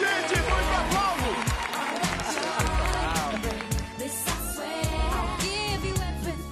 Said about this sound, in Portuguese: Muito aplauso, gente, muito aplauso.